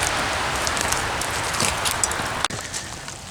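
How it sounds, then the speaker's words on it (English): Steady rain falls and patters on surfaces outdoors, a dense even hiss throughout with a brief sharp knock near the end. "I'm going to get out of the rain"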